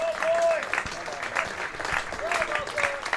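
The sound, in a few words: home crowd applauding at a cricket match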